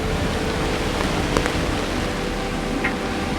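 Steady rain falling on a sailboat at sea near Guadeloupe, a dense even hiss with occasional louder drops and spatters, without any voices.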